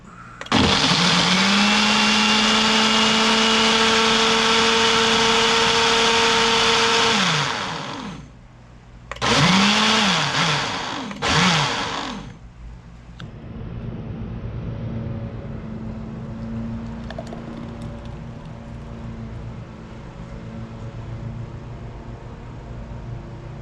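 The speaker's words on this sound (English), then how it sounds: "Back to the blender." A blender making a kefir smoothie whirs loudly at high speed for several seconds, stops, then runs in two short pulses before cutting off, leaving a quieter motor-like hum behind.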